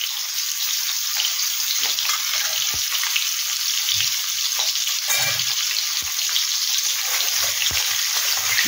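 Boiled new potatoes frying in a pan, a steady loud sizzle throughout with occasional soft clinks and stirring knocks.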